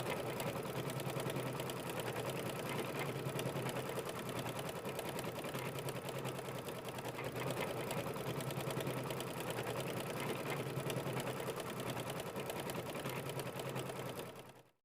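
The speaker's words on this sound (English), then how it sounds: "let's go ahead and stitch that out now" A sewing machine runs steadily, stitching background quilting across a small mini quilt, its rapid even needle hum continuous and close for the whole stretch with no talking.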